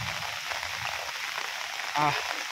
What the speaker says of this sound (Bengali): আমি ভিজতেছি বৃষ্টিতে